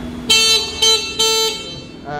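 Three loud, close beeps of a sports motorcycle's horn, two short and one longer, with a brief pause between each.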